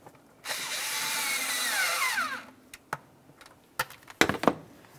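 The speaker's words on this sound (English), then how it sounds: "tighten that 8 millimeter headed clamp along the backside there" A power tool tightens the 8 mm headed clamp on the throttle body of a 1994-2002 Dodge Ram 2500 during intake gasket replacement: one close, roughly two-second whirring burst that winds up in pitch, then a few light clicks and knocks.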